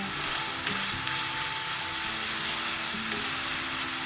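Finely chopped celery, green pepper and parsley stalks frying in oil for a pasta bake, giving a steady close sizzle with a few stirring clinks and no speech.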